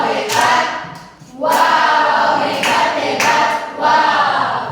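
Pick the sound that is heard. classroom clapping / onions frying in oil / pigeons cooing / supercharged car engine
classroom clapping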